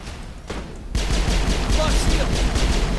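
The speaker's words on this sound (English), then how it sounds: "They won't stop firing things at me." Enemy weapons fire in the Mass Effect game, a quick crackle of shots that jumps in loudness after a brief lull and keeps rattling in rapid bursts, with a voice speaking over parts of it.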